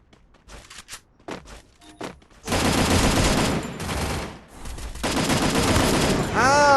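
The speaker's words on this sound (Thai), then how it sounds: "มีคนยิง หลังเนินครับ" Gunfire in the battle royale video game Free Fire: a few sparse early shots, then sustained loud bursts of rapid automatic fire with a brief pause in the middle, close and dominant.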